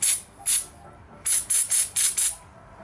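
An aerosol can is sprayed onto the battery terminals of a Craftsman DLT 3000 lawn tractor in six short, close hissing bursts, two separate ones followed by a quick run of four.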